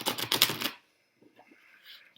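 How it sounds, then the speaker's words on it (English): A Rider-Waite tarot deck gets shuffled in a quick burst of crisp, rapid card riffling that lasts under a second, then drops to near silence with a few faint rustles afterward. "Let me just give these a good shuffle."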